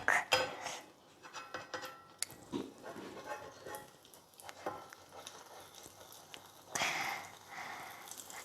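Kitchen pancake cooking: a few sharp metallic clinks and scrapes of a spatula against a pan at the flip, with faint sizzling in between, close and fairly quiet, no talk.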